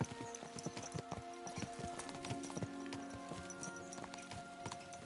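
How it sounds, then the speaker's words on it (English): Horses gallop in a medieval open-world video game, a rapid, busy patter of hooves with occasional snorts, close and continuous for a few seconds. "Let's really spur these horses on, eh?"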